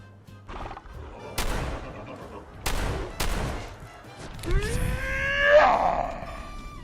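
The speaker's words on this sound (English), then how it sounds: "Nine shots." Gunshots in a Fallout video game, several sharp cracks spaced irregularly, followed by a loud screeching, whinnying creature cry.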